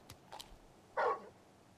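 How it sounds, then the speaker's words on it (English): Torgal, the large dog companion in Final Fantasy XVI, gives a single short bark near the end, preceded by a couple of faint yips or snuffles, with no talking. "You're just a big puppy, aren't you?"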